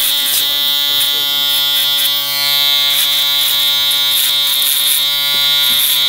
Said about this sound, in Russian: когда сеточка изнашивается, шевер начинает нереально громко орать